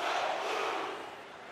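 Arena crowd in the NHL 23 ice hockey video game roars in a broad, steady wash of cheering that fades slightly toward the end, with no talk.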